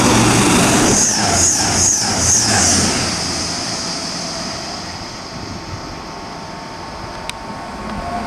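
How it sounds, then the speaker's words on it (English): A Grand Central Class 180 diesel unit on a service from London King's Cross to Bradford Interchange speeds through Stevenage station on the East Coast Main Line. It sounds loud at first with a rhythmic clatter over the rails, then fades away into a steady distant rumble. "the next train to pass through is going to be a Grand Central service to Bradford Interchange from London King's Cross."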